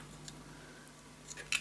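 Scissors snip through paper being trimmed for a Halloween pop-up scrapbook album. A few faint, quiet cuts come through, ending in a sharper, closer snip.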